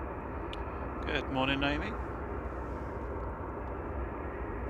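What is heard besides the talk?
Qatar Airways Boeing 787-9 Dreamliner on short final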